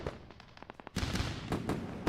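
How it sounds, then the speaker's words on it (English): A fireworks sound effect played on a live day-trading stream, a rapid run of crackling bangs that swells into a denser, louder burst of pops and booms. "Let's go for the round of fireworks."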